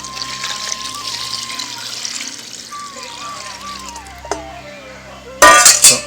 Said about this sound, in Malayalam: ഇനി ഇതിലേക്ക് ഞാൻ കുറച്ച് ചൂടുവെള്ളം ഒഴിച്ചു കൊടുക്കുവാണ്